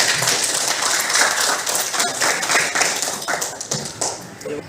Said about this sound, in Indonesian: Tepuk tangan untuk masing-masing